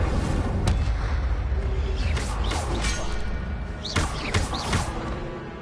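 A fire spell cast in the Hogwarts Legacy video game, heard as loud continuous roaring with whooshing bursts and booming impacts throughout, dense game effects and no talking.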